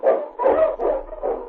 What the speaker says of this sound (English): The Wonder Dog King, swiftest and strongest of Eskimo lead dogs, blazes the trail through storm and snow